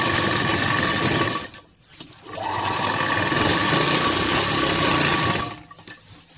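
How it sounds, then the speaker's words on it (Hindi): An electric sewing machine stitches round the hem of a salwar, a loud, steady rapid whirring that stops briefly, restarts and runs evenly before cutting off near the end. "नीचे से हम सिलाई लगाएंगे, पूरा राउंड सिलाई लगा लेंगे इसी तरह"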